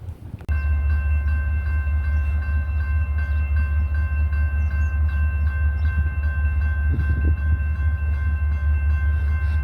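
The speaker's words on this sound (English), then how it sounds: "we got a train coming, should be here in a few minutes" A train nearing the Milby Street railroad crossing: a steady, heavy low rumble with sustained horn-like tones held over it, loud and continuous throughout.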